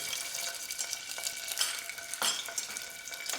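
Ginger garlic paste fries in hot oil in a pan, a close, steady sizzle broken by repeated scraping stirs of a spoon, with no talking.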